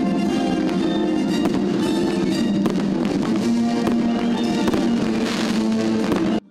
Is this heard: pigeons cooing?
no